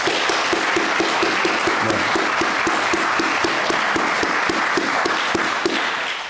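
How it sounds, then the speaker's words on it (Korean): A church gathering's audience claps in thanks, a loud, steady round of applause with many individual hand claps audible, holding evenly before tapering slightly at the end. "그래서 우리 한번 박수로 좀 감사를 표할까요?"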